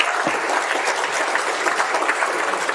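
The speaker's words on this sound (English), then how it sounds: "Another round of applause for Rod Roberts," A crowd at a political fundraiser keeps up continuous applause, many hands clapping in an even, dense patter that holds steady from start to end, with no voices on top.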